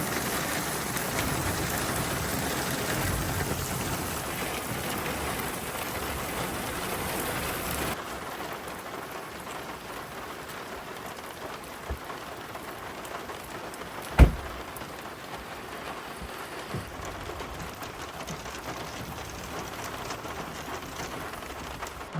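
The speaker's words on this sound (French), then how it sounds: "Là c'est le déluge. Voilà. Pas maintenant parce que ça pleut trop." Heavy rain pours down in a dense, steady hiss during a powerful thunderstorm, loudest at first and easing slightly after a few seconds, with a brief sharp knock partway through.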